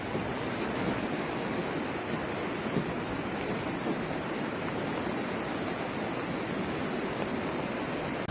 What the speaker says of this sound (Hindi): भारी बारिश के चलते नदी उफान पर है